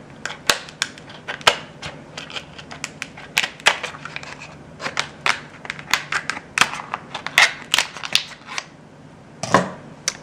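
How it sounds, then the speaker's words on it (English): Poultry shears snip down the middle of a lobster tail in a series of sharp, crunchy cracks and clicks, uneven in rhythm and close up. "to get the meat out of the tail, I'm using my poultry shears. And I'm just going to cut down the middle here."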